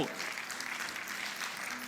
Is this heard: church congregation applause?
yes